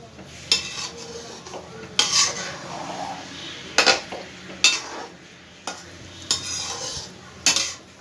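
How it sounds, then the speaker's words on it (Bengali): Raw banana koftas go into a simmering curry with boiled potatoes in a pan, followed by gentle stirring: sharp spoon-on-metal clinks and scrapes land every second or so over a soft bubbling sizzle. "এই পর্যায়ে আমি কোপ্তাগুলো সব দিয়ে দেবো একে একে। খুব হালকা হাতে এবার একটু নাড়াচাড়া করব।"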